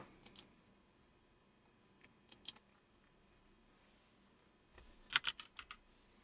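A few sparse bursts of computer keyboard typing, quiet and close, separated by long near-silent gaps, with the last burst the loudest and busiest.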